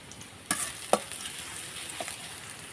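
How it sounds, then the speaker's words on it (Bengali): Chopped onion and bay leaf frying in oil in a wok give a soft, steady sizzle, broken by two or three sharp crackles and a stir. "পেঁয়াজ কুচিটা আমি 1 মিনিটের মতন ভেজে নেব"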